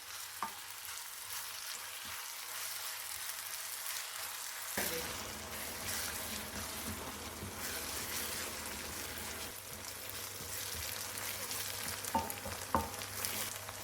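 Chopped onions fry in a pan over the heat with a steady crackling sizzle, quieter at first and then fuller and denser, with a few sharp clicks near the end and no voices.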